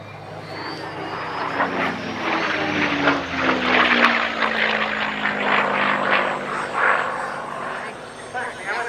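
A propeller aircraft drones steadily overhead at the Cosford Airshow, its engine tone rising and shifting as it passes, loud and close throughout.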